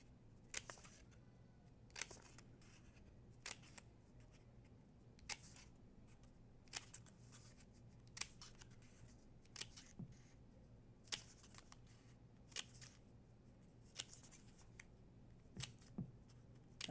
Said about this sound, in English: Can make your snips a little faster.